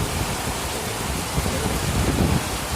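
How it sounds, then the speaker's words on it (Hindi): A sudden rain shower falls in Margherita town during a half lockdown, a steady broadband hiss of close rain with no voices. "बारिश आई।"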